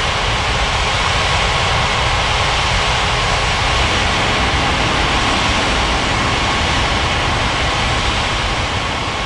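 Airliner taking off from runway 27 at Ngurah Rai Bali International in an air traffic control game, a loud, steady, broadband jet roar that holds at constant strength from start to finish with no voices.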